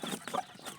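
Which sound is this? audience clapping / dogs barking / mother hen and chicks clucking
mother hen and chicks clucking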